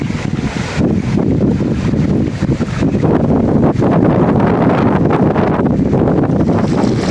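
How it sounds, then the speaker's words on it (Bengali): Strong, gusty stormy wind buffets the microphone outdoors, a dense, steady roaring rumble that swells slightly in gusts throughout, with no voices. "বাতাস নাকি, মানে ঝোড়ো বাতাস যেটারে কয়।"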